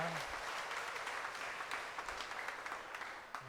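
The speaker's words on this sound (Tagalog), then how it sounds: "Pumalakpak ng malakas." A congregation at a Sunday novena Mass applauds loudly, a dense, continuous patter of many hands that stays strong and steady throughout.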